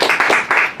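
Brief burst of applause for a guest, a quick run of close, bright hand claps lasting under a second.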